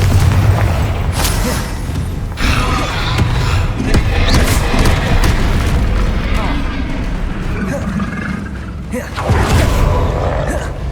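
Confringo fire-blast spells in the Hogwarts Legacy video game, repeated booming explosive bursts over a dense, loud battle mix, with a voice calling out spell names throughout.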